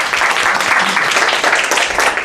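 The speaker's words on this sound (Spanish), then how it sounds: "Fuerte aplauso para todos." Audience applause after an academic talk on the humanities, dense and steady clapping from a seated crowd filling the whole stretch at fairly loud level.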